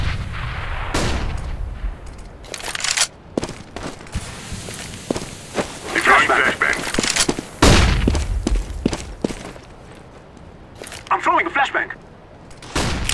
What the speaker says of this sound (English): Throwing a flashbang! Smoke!